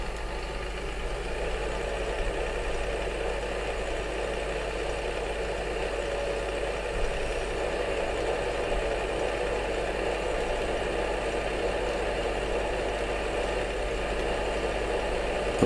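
A tractor engine in Farming Simulator 2015 runs at a steady idle-like drone while cutting grass in wet weather, continuous and even with a faint rattle throughout.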